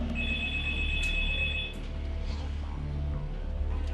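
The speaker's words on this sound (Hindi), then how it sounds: "लेकिन आवाज बदल बदल कर वो रितिका के घर पर लगातार फोन किया करता था।" A telephone rings with a bright, trilling electronic bell in short bursts, heard against a low background hum and dramatic underscore, fairly close.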